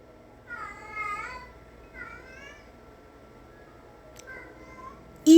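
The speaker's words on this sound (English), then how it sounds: "Even the cats got something to say to you, Trump" Cat meowing indoors, a few separate meows, the first loud and drawn out, the others softer and shorter, with quiet gaps between and a sudden thump at the end.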